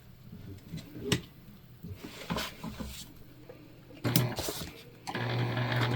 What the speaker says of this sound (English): I'm just keeping my hand underneath over here to make sure that where we're sewing stays flat.